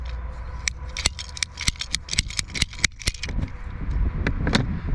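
A short piece is cut from irrigation pipe, giving a series of sharp clicks and snaps in quick succession, then a steadier rattling scrape toward the end, close by with no talking.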